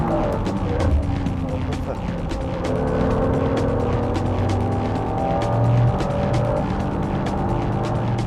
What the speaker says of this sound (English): The NSXR passes the 330 horsepower European spec Supra at the first corner.